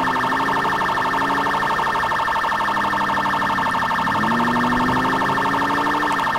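A loud fire department emergency siren in GTA IV wails continuously, its pitch sweeping slowly up and down, with a steady electronic drone beneath it.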